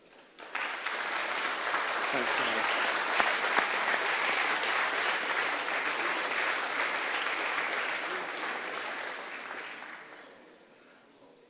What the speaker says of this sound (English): Give yourself another round of applause.